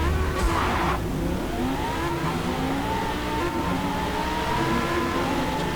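A Lamborghini Huracán roars around a tight circuit in the racing game Forza Motorsport, its engine revving loud and continuous with rising and falling pitch as it accelerates, plus a brief tire squeal early on.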